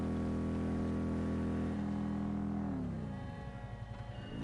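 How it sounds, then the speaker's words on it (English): Motorbike engine in the video game Saints Row, a steady droning hum that holds evenly and then drops in pitch and loudness as it eases off, with no talk over it. "See, now sounds like the motorbike."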